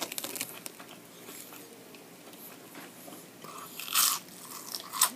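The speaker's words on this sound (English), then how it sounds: "The crunch is real" Crispy fried onion rings from a Sheetz convenience store crunch loudly as they are bitten and chewed up close, with sharp crackling bursts over steady chewing.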